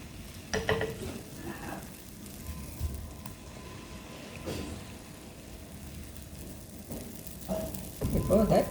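Dosa batter for a small bun dosa sizzles in a small pan, a soft crackling hiss broken by a few louder scraping and clattering bursts near the start and at the end.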